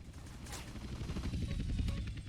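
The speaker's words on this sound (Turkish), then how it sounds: "Savaş helikopteri mi o?" Attack helicopter in GTA San Andreas, a steady rotor thrum with mechanical chatter and bursts resembling gunfire over dense low-end rumble, loud and continuous throughout.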